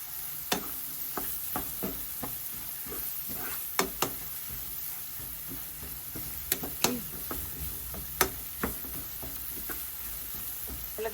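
Onion and carrot sauté in a pan over medium heat with a steady soft sizzle, while a utensil stirs and scrapes, giving sharp irregular clicks and knocks against the pan. No one speaks.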